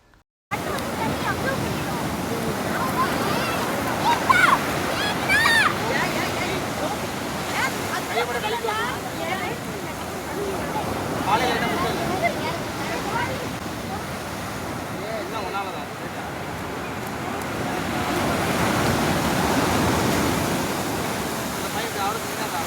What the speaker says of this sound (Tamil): ஒரு அலை வர்றதை பாருங்களேன் சும்மா பங்கம் பண்ணது மாதிரி இருந்துச்சு